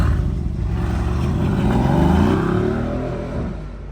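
A bagged Nissan GT-R's engine revs up close and loud, climbing to a peak around the middle and then easing back down, with no talk over it.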